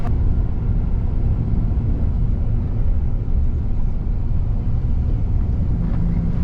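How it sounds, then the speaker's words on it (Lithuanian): Buses idling outside the Oświęcim railway station, a steady low engine rumble with outdoor ambience, continuous and moderately loud with no voices. "Štai va laukia autobusai."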